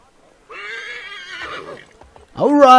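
A horse whinnies in the video game Assassin's Creed III in a wavering, drawn-out call, followed after a short gap by a second, louder neigh rising sharply at the end.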